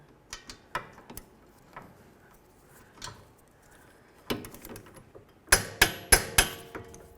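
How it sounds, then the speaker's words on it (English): A torque wrench clicks while tightening wheel hub bolts on a 2007–2014 Ford Edge, set to 85 foot-pounds in a diagonal pattern. Scattered sharp clicks come first, then four loud, evenly spaced clicks close together near the end. "Let's torque these to 85 foot-pounds."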